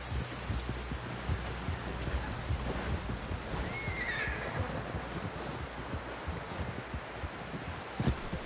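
A horse in Red Dead Redemption 2 gives a clear mid-length whinny over a steady bed of plodding hoof clops and rustling, with the hooves continuing alone.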